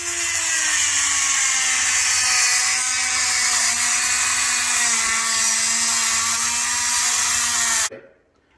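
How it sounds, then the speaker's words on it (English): Dremel rotary tool with a diamond cutting bit slicing through peel and stick marble tile, a loud steady high-pitched whine and grinding hiss for about eight seconds before cutting off abruptly. "this is my Dremel tool. This is the diamond cutting bit,"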